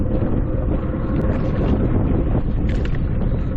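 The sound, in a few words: wind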